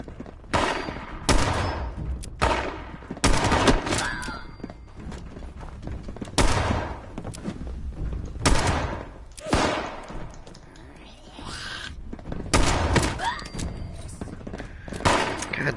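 Repeated shotgun blasts in the Fallout 76 video game, a series of loud, sharp booms spaced a second or two apart with game ambience and a voice in between.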